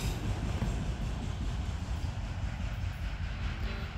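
Freight train 264 rolls past at close range, auto racks at its rear, a loud steady rumble of heavy rail cars with a low rolling roar and faint clatter throughout, no voices.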